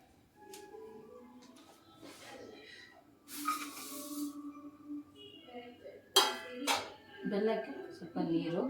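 Lumps of jaggery dropped into a metal cooking pot give a few sharp clinks and clatters, separated by quieter handling noises, close by, with no talk.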